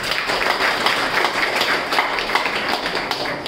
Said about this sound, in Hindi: उनके लिए तालियां बजाएंगे।